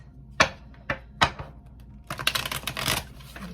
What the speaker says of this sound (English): Okay, let me shuffle the deck.